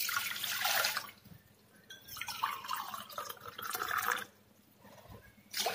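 Water poured into a pot while cooking ghee rice, a steady splashing pour for about a second, then quieter trickling and another strong pour near the end, close and alone.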